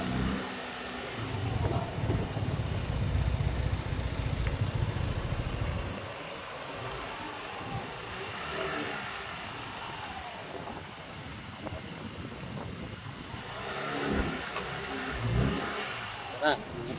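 A motorized tricycle engine revs loudly while pulling away, then settles into a lower, uneven running drone with wind buffeting, and picks up again near the end; voices talk over parts of it.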